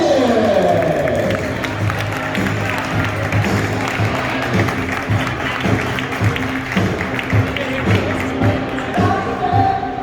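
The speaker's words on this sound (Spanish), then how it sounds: "un fuerte aplauso para Lucas Valle." A crowd claps and cheers at a karting awards ceremony, with loud applause near the start that settles into lighter, scattered clapping under a steady background hum.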